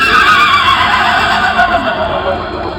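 A person's voice imitates a horse's neigh: a loud, sustained, wavering whinny lasting nearly three seconds, close and alone.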